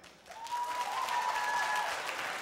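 Comedy club crowd clapping on cue during a stand-up set, a moderate burst of applause that swells after a brief quiet start and carries steadily, with a whistle or high cheer riding over it.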